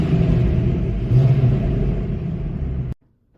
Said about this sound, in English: I also straight piped the Mustang to give it a more rawish and natural sound